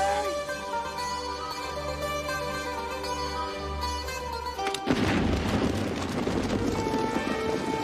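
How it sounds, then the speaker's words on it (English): A rock is blown up to clear a road to a dig camp in Egypt, 1908: a sudden loud blast hits about two-thirds through, giving way to a sustained roar of rumbling debris after a stretch of steady tonal background. "Demetrius is going to blow up the rock. It'll make a lovely explosion"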